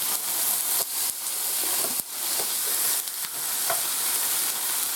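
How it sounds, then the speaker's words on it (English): A steady, dense sizzle of pork chops frying in a skillet, close and loud, with a few scrapes and knocks from a spatula. "You hear that sizzle sizzle?"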